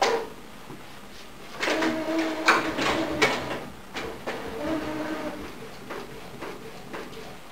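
Mechanical whirring and sliding of an A4 UV printer as its carriage moves back and forth printing position lines, with intermittent clunks and hums at close range and no talking.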